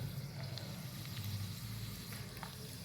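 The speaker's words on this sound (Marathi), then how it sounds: "दुप्पट फुलती अजूनही तळून दाखवतो" Sabudana potato chakli fry in hot oil with a soft, steady sizzle and bubbling that stays faint and even throughout.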